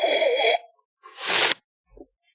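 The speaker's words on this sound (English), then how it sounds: "So when you sip it, it'll kind of sound like this." Sipping tea through puckered lips, drawing in air: a breathy, hissing slurp after a brief airy rush, followed by a faint small swallow or plop, close and alone.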